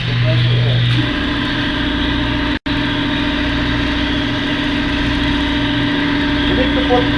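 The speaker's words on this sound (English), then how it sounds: "Compressor air." An air compressor runs in an automotive workshop, giving a loud, steady mechanical drone with a constant low hum that breaks off for a split second midway and then resumes.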